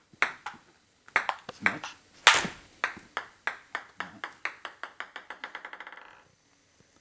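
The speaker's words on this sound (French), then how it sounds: "j'ai la balle, toujours, la petite balle là, sur la table" A small ball bounces on a table, recorded on an iPhone for foley: a few loose, irregular bounces give way to a steady run of hits that quicken and shrink into a rapid patter before stopping, with a brief word spoken near the start.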